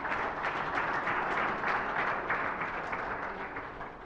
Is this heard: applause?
yes